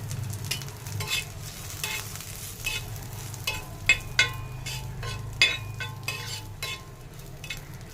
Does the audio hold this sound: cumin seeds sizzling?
yes